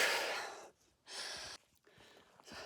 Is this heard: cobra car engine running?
no